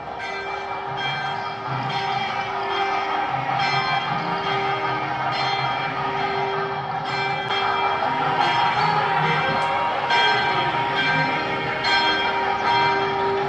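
A temple bell rings on and on during a Navagraha puja at a Murugan temple in Malaysia. Its bright metallic tones repeat over a dense background of ringing and murmur.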